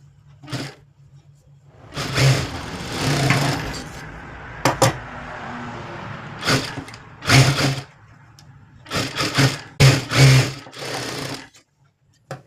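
A sewing machine stitches blouse sleeves in short repeated bursts of rapid mechanical whirring, separated by brief pauses and light handling noises.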